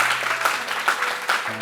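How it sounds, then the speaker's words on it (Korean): A church congregation applauds to welcome new members, giving a dense burst of clapping from many hands in a reverberant hall. "잠시만 일어나 주시면 우리 박수로 격려하도록 하겠습니다."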